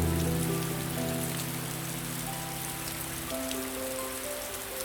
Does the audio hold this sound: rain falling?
yes